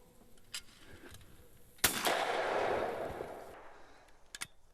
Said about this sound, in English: now let's shoot that same shot using the eye cam